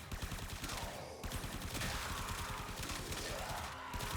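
Rapid sustained gunfire from the Supra Vandal weapon in the video game Warframe, a dense continuous stream of shots against Acolyte enemies, loud and unbroken for the whole stretch.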